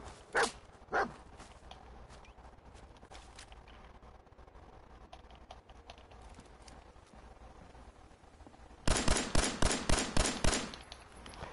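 A dog barks in the Fallout 4 video game: two sharp early barks, a long stretch of low background noise, then a rapid loud burst of about eight barks near the end.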